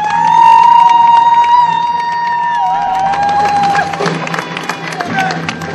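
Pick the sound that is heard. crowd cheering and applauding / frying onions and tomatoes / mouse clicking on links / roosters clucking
crowd cheering and applauding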